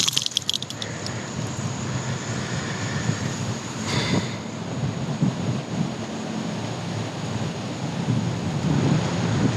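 A thunderstorm rolls over a lake during a bass fishing outing, with a low continuous rumble of thunder and rain noise throughout and a brief sharper crack near the middle.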